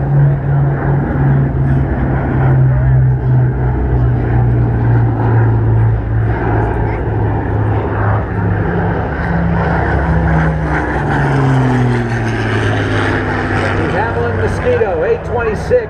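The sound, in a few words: Boeing B-29 Superfortress bomber flying overhead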